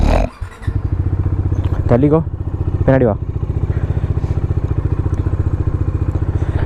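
A Dominar motorcycle idles while warming up, a close, steady low thumping engine beat running throughout as a man briefly calls out over it.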